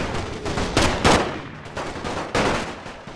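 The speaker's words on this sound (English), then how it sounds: "Oh no, they are going to fire back." Enemy gunfire in the World War I strategy game The Great War, a volley of loud overlapping rifle and machine-gun shots crackling in bursts, with a few sharper cracks standing out over the din.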